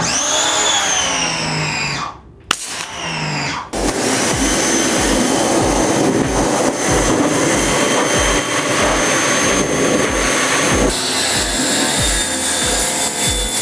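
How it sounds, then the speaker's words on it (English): A loud, steady pressure washer hisses and drones close by while cleaning a Subaru WRX chassis. A short pause breaks in early, then the continuous spray runs on with pulsing low thumps underneath. "now we are gonna get this thing finally pressure washed"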